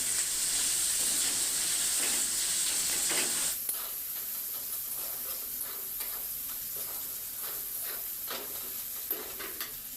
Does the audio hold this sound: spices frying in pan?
yes